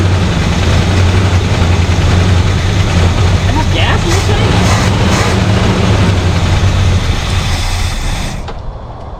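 A 1974 Plymouth parts car, revived after sitting 20 years, runs with a steady, loud low rumble close by, then falters and drops off near the end.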